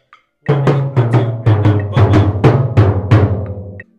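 Snare drum solo from a marching percussion piece, played loud and close: a tight, rhythmic run of sharp strokes and accented hits lasting a few seconds, with no talk.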